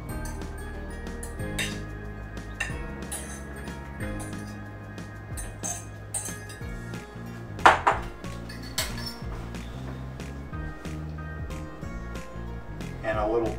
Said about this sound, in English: And I'll dish out some broccoli for us.